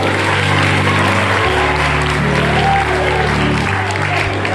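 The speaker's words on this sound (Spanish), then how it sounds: "denle otro aplauso al Señor" Guests at a Haitian wedding celebrated in the Dominican Republic applaud loudly and continuously in a dense wash of clapping close by, with music and a speaking voice beneath.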